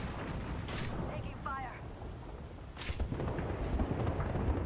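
Gunfire and explosions in a video game, rumbling booms and bursts over dense noisy action, with a voice talking over the battle.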